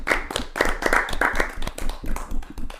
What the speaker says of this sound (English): let's get a live hand clap